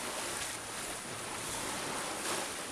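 Sea waves and wind wash steadily around a sailing boat gliding into Ajaccio, Corsica, at sunset: a continuous broadband rush of surf and water, fairly close, with no voices.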